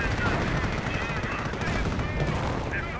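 Gunfire crackles through a WWII real-time strategy battle, with bursts of machine-gun and rifle fire over a dense, continuous din of combat noise and a faint voice underneath.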